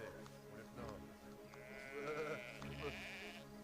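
Sheep bleating in the video game Valiant Hearts: The Great War, a faint wavering bleat over steady game background noise and music.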